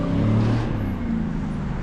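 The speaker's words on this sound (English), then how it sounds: "Man, that dude just floors his truck everywhere." A truck on the road accelerates hard, its engine a loud, steady, close roar lasting under two seconds.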